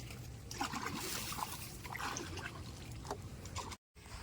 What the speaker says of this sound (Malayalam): കണ്ടത്തി വെള്ളം കയറ്റാൻ വേണ്ടിയിട്ട് തൂമ്പ് തുറക്കുകയാണ്ടോ